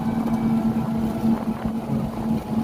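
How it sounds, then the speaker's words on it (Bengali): A toto electric rickshaw being driven produces a steady low motor hum with a faint whine and rattling road rumble, continuous and close, with no voices. "এখনও টোটো আমি চালাচ্ছি"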